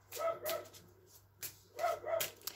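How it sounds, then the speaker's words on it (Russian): Dogs bark somewhere in the distance, a few faint separate barks in two short bursts over a quiet indoor background, without talking. "Если не лает моя собака, то есть эти чужие собаки, правда?"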